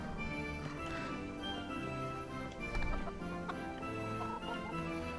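Chickens cluck in a medieval village in Kingdom Come: Deliverance, soft scattered calls under a layered music and ambient bed, with a brief horse clip-clop midway.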